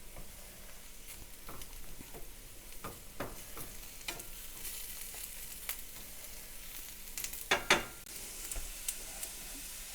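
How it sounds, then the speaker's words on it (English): Onions and peppers fry in olive oil in a pan with a soft, continuous sizzle, broken by scattered scraping strokes of a stirring utensil and a few louder clatters near the end. "while my onions is frying in the pan"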